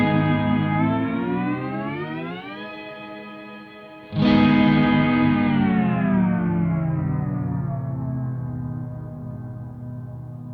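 A Strymon NightSky reverb pedal in smooth mode spreads a long, lush wash of sustained tone that slowly sinks, then a fresh loud swell blooms at once and fades gradually, with no other sound.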